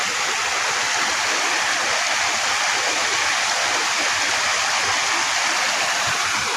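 Water rushes through a widened drainage channel carrying flow from Aik Latong in a landslide-hit village, a loud, unbroken hiss and gush up close with no other sounds.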